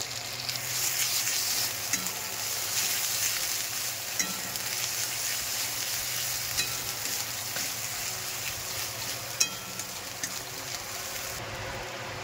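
Ginger paste frying in a pan for prawn malai curry, a loud, dense, unbroken sizzle with occasional crackles and a light clink or two over about twelve seconds, no one talking.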